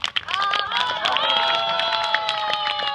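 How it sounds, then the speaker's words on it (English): A crowd at an Indian Guides father-and-son program bursts into applause, cheering and loud shouts that last for several seconds. Voices whoop above the clapping, which is close and lively. "big round of applause"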